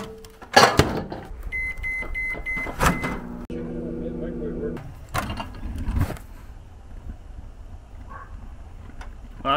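A microwave oven heating soup hums steadily in the middle stretch, with a few loud clunks and beeps around it and a voice talking over parts of it.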